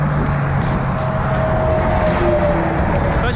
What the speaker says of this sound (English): Every time a truck goes by